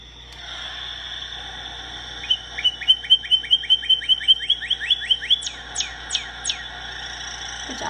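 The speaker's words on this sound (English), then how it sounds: "So that is actually a northern cardinal call." Northern cardinal calling nearby: a rapid series of loud, clear chirps repeated in a steady rhythm, then slowing into a few spaced, sweeping whistled notes before trailing off.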